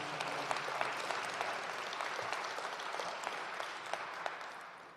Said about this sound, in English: Let's give the Somalis who are fighting for their rights a rousing round of applause.